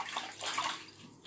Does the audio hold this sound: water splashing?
yes